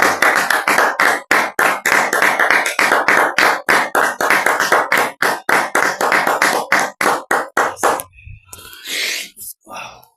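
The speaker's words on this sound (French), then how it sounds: "Applaudissons pour le Seigneur Jésus." A congregation at a French-language revival church service claps in a steady, rhythmic beat for about eight seconds, loud and close, then stops as a voice calls out over the quieted room.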